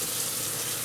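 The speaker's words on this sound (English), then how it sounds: "So you turn on the water." Water runs steadily from a tap into a sink, a continuous close hiss that fills the short moment with no voices.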